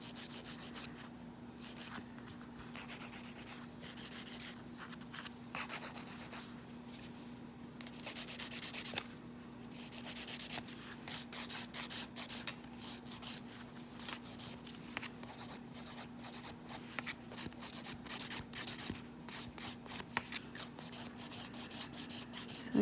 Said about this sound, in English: So again, I'm beveling around the cuticle.